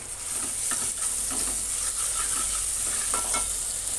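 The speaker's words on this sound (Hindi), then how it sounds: "अब इसमें मैं डालूंगी अदरक लहसुन का पेस्ट" Ginger garlic paste sizzles with half-cooked onions in a pan on a lowered gas flame, a steady close frying hiss broken by scraping stirs, with no talking.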